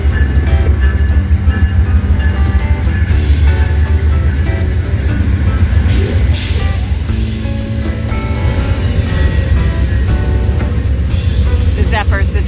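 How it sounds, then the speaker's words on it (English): The Amtrak California Zephyr sits at the station while a loud, steady low rumble of idling locomotive and rail machinery continues throughout, with a brief hiss midway. "This is the California Zephyr."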